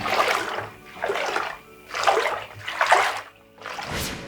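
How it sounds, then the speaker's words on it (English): Bathwater swished by hand in a home bath, giving about five rhythmic splashing, sloshing surges roughly a second apart, close and moderately loud with short pauses between them and no talking. "Did you hear the sound the water made when I swished it in the bath?"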